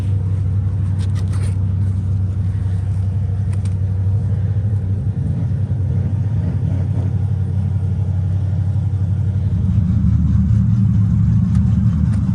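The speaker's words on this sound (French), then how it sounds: "C'est une compétition de drift et du coup c'est très bruyant." Cars at a drift competition on a circuit give a loud, continuous low engine rumble that holds steady throughout, swelling slightly near the end, with no talk.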